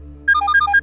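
Mobile phone ringtone: a bright, rapid electronic melody of short repeating notes, loud and close, starting suddenly over a faint low background hum.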